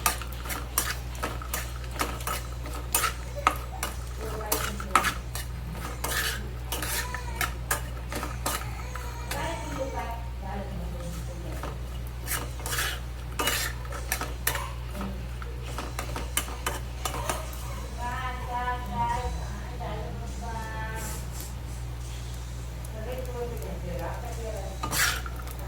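Chopped coconut roasts in oil in a pan while a metal spoon stirs it with repeated clinks and scrapes over a soft sizzle and a low steady hum, heard close up.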